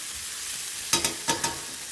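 Bacon frying in a pan gives a soft, steady sizzle, broken by three or four sharp close crackles or pops near the middle; no talking.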